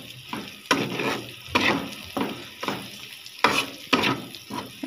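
Onions softening in hot oil in a pan as they are stirred: a steady close sizzle broken by repeated scraping strokes of a spatula at an uneven rhythm, with no talk over it.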